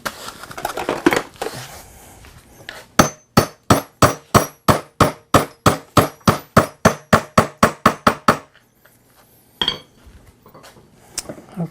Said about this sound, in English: Get the hammer, that one's a little tight.